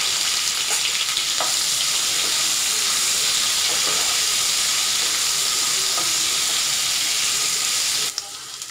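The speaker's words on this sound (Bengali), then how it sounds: "মাছের ওই তেলে আমি পটলগুলো ভেজে নেব। সামান্য হলুদ দিয়ে পটলগুলো আমি ভেজে নেব।" Pointed gourd pieces fry in leftover fish oil with a little turmeric, giving a loud, steady sizzle and hiss with occasional stirring clinks, close up and without talk.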